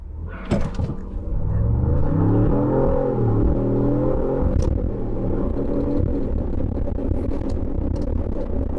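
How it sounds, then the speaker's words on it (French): A 2022 Ford Bronco Wildtrak with EcoBoost engine and large 35-inch tires pulls away from a standstill, the engine note rising steadily from a low rumble to a strong, sustained revving drone inside the cabin. "Maintenant, on va tester l'accélération avec le Bronco."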